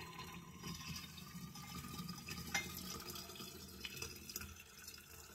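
Cooled sloe gin poured through a funnel into a thermos flask, a faint steady trickle of liquid with a few small drips and splashes, heard alone without talk.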